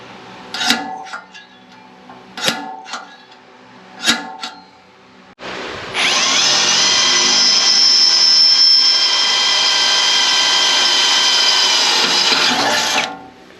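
A power drill bores holes for a hidden hitch on a slammed 1964 Ford F100 truck. A few sharp knocks or taps come first, then a loud, steady high-pitched whine of drilling into metal holds for several seconds before stopping.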